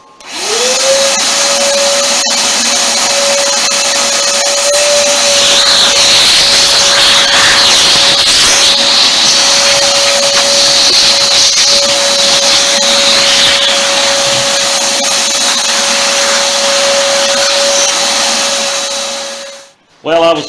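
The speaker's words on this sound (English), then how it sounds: "let's get this air purifier cleaner 9000 plugged in here. Turn this baby on." A household air purifier switches on with a quick rising whir and settles into a steady, loud fan drone with a constant tone, running evenly close by for about twenty seconds before cutting off.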